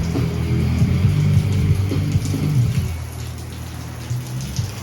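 Steady rain falls outdoors near a garden, a dense continuous hiss of drops with a low rumbling undertone, fairly loud and even throughout with no voices.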